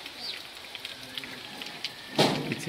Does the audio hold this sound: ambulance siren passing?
no